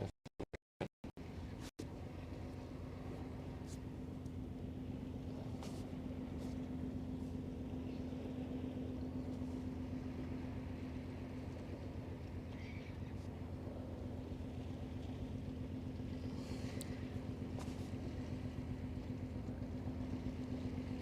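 A 1,300-TEU container ship's engine drones on with a low, steady hum and faint tonal whine for the whole stretch, after a few brief knocks at the start; no voices.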